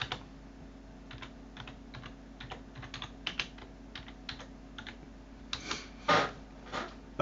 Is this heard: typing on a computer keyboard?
yes